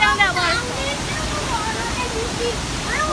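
A waterfall roars as a steady, broad rush of falling water, with voices talking and calling over it at the start and end.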